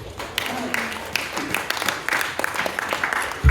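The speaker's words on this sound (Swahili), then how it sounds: "Pigia Yesu makofi." Congregation at a Swahili-language Sunday church service clapping for Jesus, a bright burst of many hands applauding with some voices mixed in, fairly close and lively throughout.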